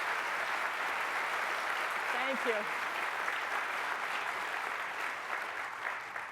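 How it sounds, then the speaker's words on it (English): Audience at a University of Pennsylvania forum applauds in a sustained, even wash of clapping, moderately loud throughout, with a brief spoken thank-you heard over it. "give them a big round of applause"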